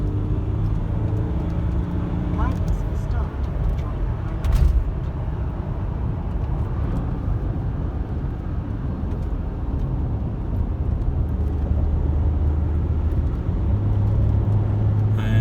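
Land Rover Discovery 4 engine pulling hard under acceleration, a loud steady low rumble of engine and road noise building over fifteen seconds with no talk.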